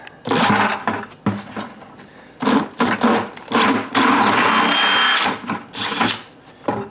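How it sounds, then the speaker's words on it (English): A power drill whirs in repeated bursts, starting and stopping several times, then grinding steadily through a plastic 5-gallon bucket before winding down. "And you drill a hole."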